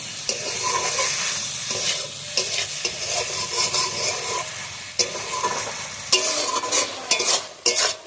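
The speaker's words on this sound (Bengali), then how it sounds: "ভালো করে কষিয়ে নেবো লতিটা" Taro stolons sautéed in a pan with mustard paste and prawns, a continuous oily sizzle broken by repeated clattering strokes of a spatula stirring and scraping, loud and close with no talking.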